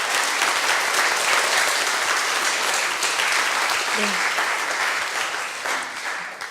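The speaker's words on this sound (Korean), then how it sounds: "박수로 환영해 주시기 바랍니다." Sustained, loud audience applause welcomes a speaker to the stage at a lecture, a steady wash of many hands clapping that eases slightly toward the end.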